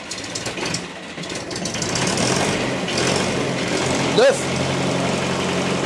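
An old vehicle engine idles steadily with a low, even chugging rumble, and a brief sharp knock or squeal stands out near the end, while someone talks over it.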